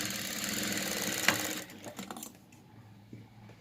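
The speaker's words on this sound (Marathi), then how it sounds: "प्लेट्सला शिलाई मारून घेऊया पहिली" A sewing machine runs steadily as it stitches down fabric pleats, then stops after about a second and a half, leaving faint handling clicks and rustles.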